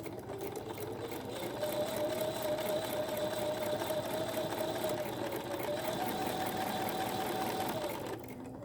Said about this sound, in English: Okay, I'm at the sewing machine, and now we're going to sew exactly on the drawn line.